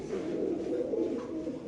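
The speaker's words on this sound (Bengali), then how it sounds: "মাশাআল্লাহ, সাদা শৌখিন কবুতর ভাই" White fancy show-quality pigeons: a soft, low, rolling coo held steadily for about two seconds, close and moderately quiet, with no talk over it.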